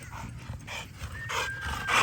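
Several excited dogs, including merle bully and cane corso types, pant and snuffle close by in quick rhythmic breaths, with a few higher whines rising near the end.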